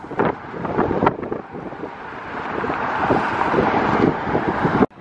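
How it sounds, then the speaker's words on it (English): Strong wind on a windy night buffets the microphone outdoors, a loud, continuous rumbling roar with gusty surges and thumps throughout, ending abruptly. "Lots of wind, so if there's wind audio right now, sorry about that."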